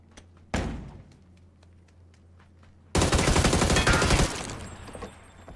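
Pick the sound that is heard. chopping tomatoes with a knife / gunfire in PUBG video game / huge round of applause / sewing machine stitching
gunfire in PUBG video game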